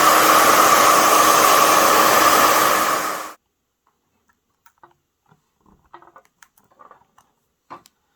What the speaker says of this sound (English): I'm going to get the heat out again on the hairdryer